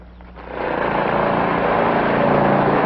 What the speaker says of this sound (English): Pesky lawnmower.